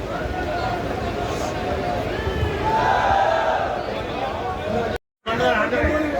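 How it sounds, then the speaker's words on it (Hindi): Dense, steady babble of a big crowd gathered for a political rally welcome in Churu, many overlapping voices close by, cut by one short gap of silence near the end. "देखिए बहुत बड़ी भीड़ यहाँ पर उपस्थित है।"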